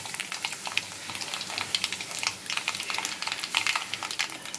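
Dried red chillies and mustard seeds fry in plenty of hot oil, a dense, steady crackle of sharp pops and spits sizzling close up and continuous, with no talking.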